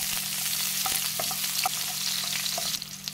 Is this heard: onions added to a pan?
yes